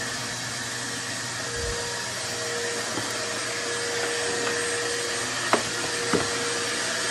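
A vacuum cleaner runs during house cleaning, a steady, even whooshing drone that holds throughout, with a couple of faint knocks near the end.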